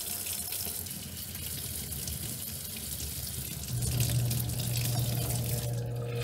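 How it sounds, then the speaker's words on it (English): Water runs through the line of a Blichmann Beer Gun during cleaning, a steady splashing flow like a running tap that swells slightly louder partway through. "You just have to run some water through this."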